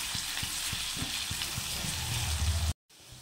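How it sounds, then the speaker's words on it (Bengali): Potatoes frying in oil with black cumin and a dried chilli, a loud, steady sizzle broken by regular soft knocks of a stirring spoon, cutting out abruptly near the end, with no one speaking. "তেলের ভেতর আলুগুলো দিয়ে দেবো"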